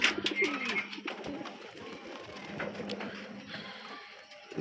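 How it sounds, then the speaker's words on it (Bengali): Pigeons coo near Shirazi and local pigeon chicks kept in a small coop, with soft repeated cooing and a few sharper bird calls close by and no talk. "এই যে আমার সিরাজি কবুতরের বাচ্চা, এই যে আমার দেশি কবুতরের বাচ্চা"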